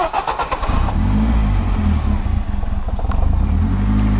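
A BMW 318is turbo engine runs at idle, a steady low mechanical rumble with some fluctuation, close and fairly loud throughout.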